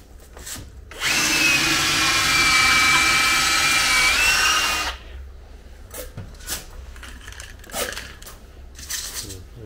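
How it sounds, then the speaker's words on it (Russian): A power drill bores into a dry D500 aerated concrete block for about four seconds, loud and close with a grinding whine, then stops; scattered clicks and handling noises follow. "Пока это не сломали, давай засверлим."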